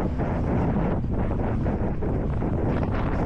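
Wind at 32 km/h gusts buffets the microphone while an e-bike climbs uphill: loud, continuous low rumbling and roaring throughout, with no voices.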